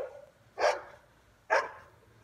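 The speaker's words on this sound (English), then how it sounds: "I've alerted all the dogs." A dog barks twice, about a second apart, each bark sharp and fairly close, with quiet between them.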